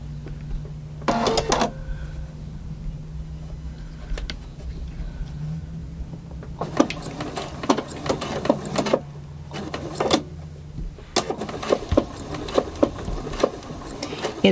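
A sewing machine stitches a Drunkard's Path quilt block in short runs, with rapid mechanical whirring bursts separated by pauses over a low steady hum.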